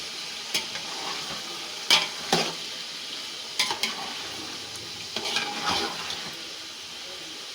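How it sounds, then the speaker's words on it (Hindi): Ginger garlic paste frying together with chicken in a pot for Kabuli pulao gives a steady, soft sizzle. Occasional stirring scrapes and clatter rise above it, fairly quiet and close, with no talk. "उसको हम शामिल कर लेंगे ताकि वो अच्छे से साथ फ्राई हो जाए"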